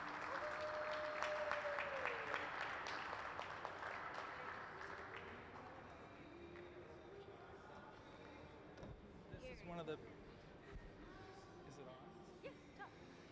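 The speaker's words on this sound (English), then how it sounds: "Let's give them one more big round of applause." An audience applauds a glassblowing team at a museum hot shop. Dense clapping is strongest at the start and fades over several seconds, with scattered claps and some talk and movement toward the end.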